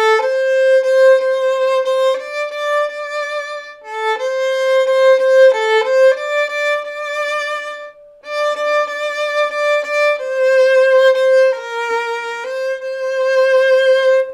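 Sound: violin playing a melody

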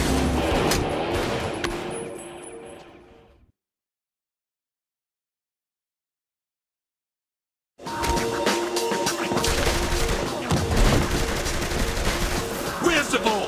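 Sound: gunfire in the video game Saints Row The Third

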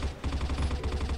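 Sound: gunfire in the video game CrossFire Mobile

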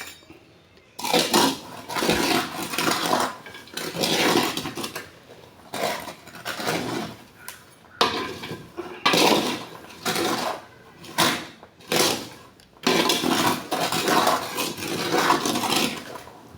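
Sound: stirring peanuts roasting in hot sand

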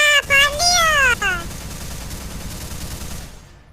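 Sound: machine gun firing from the video game Minecraft

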